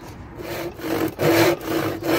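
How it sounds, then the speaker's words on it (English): Rough back-and-forth strokes of a one-handed hand saw cutting wood for a bee project, close up, with a few brief pauses between the rasping pushes. "It's not easy sawing one-handed,"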